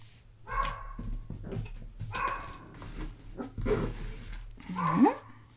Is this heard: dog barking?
yes